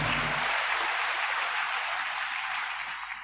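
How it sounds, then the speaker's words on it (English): A crowd at an army commissioning ceremony applauds for the Deputy Commandant, steady dense clapping that fades slightly toward the end. "Another round of applause for the Deputy Commandant."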